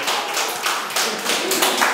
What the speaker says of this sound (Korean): 교수님을 박수 한번 쳐주세요.